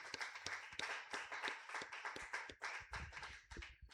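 A church congregation clapping hands in praise, a quick, fairly regular rhythm of sharp claps from a group, moderately faint and without talk.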